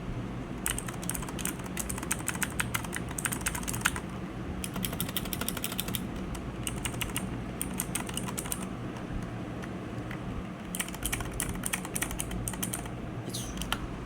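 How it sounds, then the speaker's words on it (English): Clicky Cherry MX Blue switches on an Armageddon MKA11R mechanical keyboard typed in bursts of rapid, crisp clicks with short pauses between runs, close and clear over a steady low background hum. "this is a Cherry MX Blue clicky switch"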